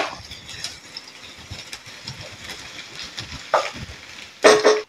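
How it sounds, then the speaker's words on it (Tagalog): Garlic sautéing in hot oil for chicken pastil, giving a faint, steady sizzle with soft stirring scrapes, a few sharper clatters near the end. "So once na mainit na, igisa natin yung ating garlic."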